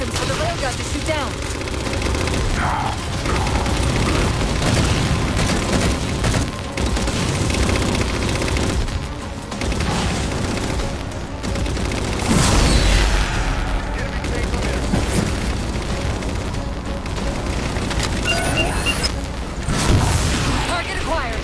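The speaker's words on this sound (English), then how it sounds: "Target those phantoms for the railgun to shoot down." A railgun fires at Phantom dropships in the Halo 4 game, its heavy booms rolling through a dense wall of battle noise and gunfire, with voices calling out over the din.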